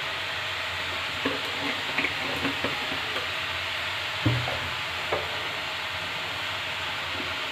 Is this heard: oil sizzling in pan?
yes